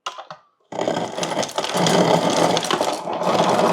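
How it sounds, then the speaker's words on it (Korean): Refrigerator ice dispenser crushing cubed ice: a brief rattle, silence, then a steady loud grinding whir with crunching ice pouring out, close by. "얼음이 막 갈려 나오죠?"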